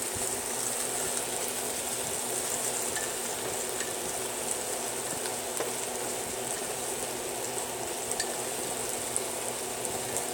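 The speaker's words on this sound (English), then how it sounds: "So the onions are starting to caramelize." Onions fry and caramelize in a pan, steady close sizzling and crackling with occasional small pops, continuous and even throughout.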